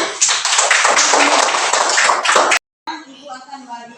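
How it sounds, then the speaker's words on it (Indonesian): Clapping from a class of fourth-grade students during a Catholic religious education lesson, a dense burst of hand claps up close for about two and a half seconds before cutting off, followed by a voice speaking. "Tepuk tangan dulu untuk kita."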